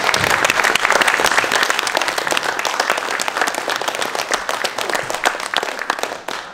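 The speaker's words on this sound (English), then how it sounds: "So can we please give Chris a round of applause?" A paranormal conference audience gives a round of applause, dense, loud clapping that holds steady for several seconds and then thins and fades out near the end.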